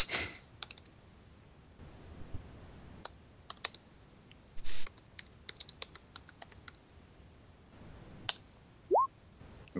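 Computer keyboard typed on with scattered sharp clicks and short bursts of keystrokes, close and moderately loud, with quiet gaps between presses and no talking.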